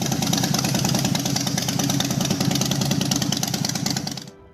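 An S&S X-Wedge V-twin motorcycle engine runs steadily up close, a loud, even, throbbing rumble with a lumpy pulse that holds for about four seconds and then cuts off abruptly.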